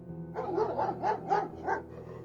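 A dog barks excitedly in a quick burst of five or six loud, close barks, with no other voices around it.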